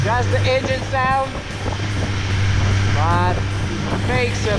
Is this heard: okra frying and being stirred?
no